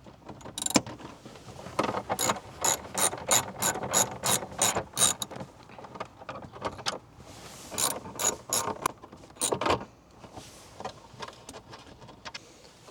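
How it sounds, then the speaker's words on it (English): A ratchet clicks rapidly in close, sharp bursts, pausing and resuming, while removing two 7mm screws beneath a mat in the dash of a Ford F-150. "underneath that mat, we'll have two 7mm screws we need to take out"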